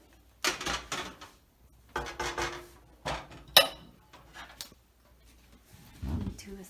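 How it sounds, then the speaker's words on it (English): Cooked tapioca pearls poured out into a sieve, a few separate bursts of sloshing and clattering at close range with a sharp knock partway through. "Now we're gonna pour them out."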